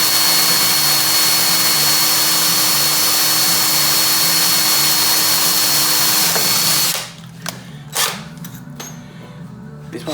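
Power drill boring a 3.5 mm hole through an aluminium casting flask gives a loud, steady whine for about seven seconds, then stops. Quieter clatter and handling noises follow.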